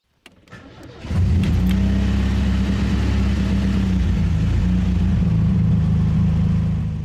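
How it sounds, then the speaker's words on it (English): A Suzuki car engine starts after a brief crank, then settles into a steady, loud, close idle hum that runs unbroken to the end, with no voices. "put Bella in the trunk, go back to give Antonia a kiss, and start the car"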